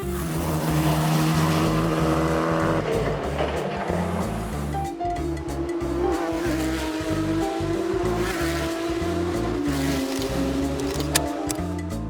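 Race cars roar past at the Bang Saen motor race in Thailand, loud continuous engine drone with rising and falling revs, several cars close by, no talking.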